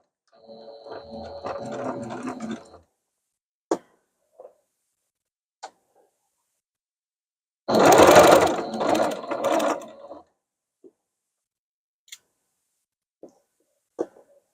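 A sewing machine stitches a half-inch seam on a sweatshirt hoodie in two mechanical bursts, a short run and then a longer back-tacking run, separated and followed by quiet clicks and ticks of handling.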